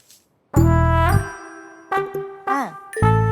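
A mobile phone rings loud and close with a bright, chiming tone melody, its notes repeating and bending in short bursts.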